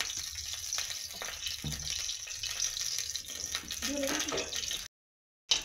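Oil heating in a pan for a Bengali katla fish sour curry with pumpkin and cauliflower, a steady soft sizzle under a voice, with a brief sharper spit partway through.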